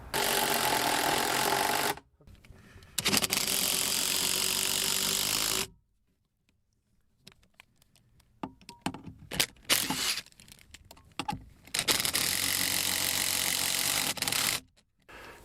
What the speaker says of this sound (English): I'm gonna use my right angle adapter and hopefully get this screwed in behind here